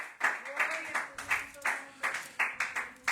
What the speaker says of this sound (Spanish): Yo no sé cuántos pueden darle un aplauso a nuestro Dios.